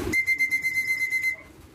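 A steady whistle blown for pigeons at feeding time rings out as a sustained high tone for about a second, then cuts off, with faint background noise.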